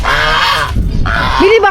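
Ducks honk loudly and close, two harsh nasal calls separated by a short gap, followed by a rising squawk at the end.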